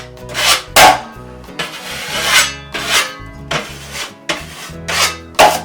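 Drywall compound scraped off a patched hole in a wall with a blade, in a run of repeated broad rasping strokes, some sharp, close and fairly loud with no voice.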